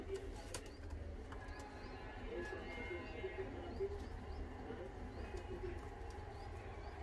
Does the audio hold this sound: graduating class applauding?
no